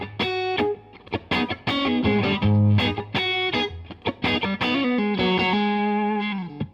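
An overdriven electric guitar with a touch of spring reverb plays chords and single-note phrases, lightly driven and sustained, with notes ringing out into a soft reverb tail at the end, no voices.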